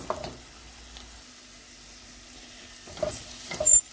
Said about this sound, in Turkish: Şimdi şöyle domatesinde domates salçasını arkadaşlar kavuralım 2-3 dakika kokusu çıksın